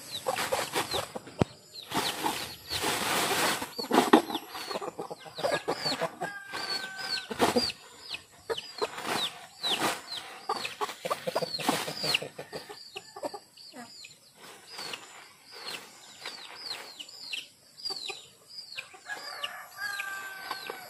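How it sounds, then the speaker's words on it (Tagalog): Several roosters crow and cluck close by in Lagonoy, Camarines Sur, with loud overlapping calls and scattered clucks in a busy yard, and no talking. "Lahat ng tandang nandito na."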